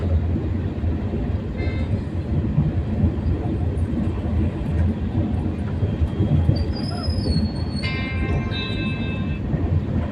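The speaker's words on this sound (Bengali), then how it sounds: "আমরা প্ল্যাটফর্মে চলে এসেছি এটা চেন্নাই প্ল্যাটফর্ম" A train rumbles steadily alongside a platform at Chennai station, with metallic wheel squeals rising high near the end over constant low mechanical noise.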